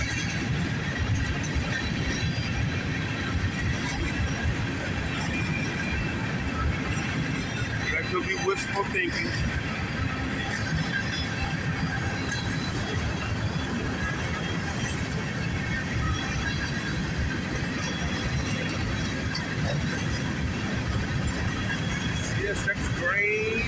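A CSX northbound grain train passes in Dayton, Ohio, filling the clip with a loud, continuous rumble and roar of rolling cars and brief metallic squeals. Someone speaks briefly over it.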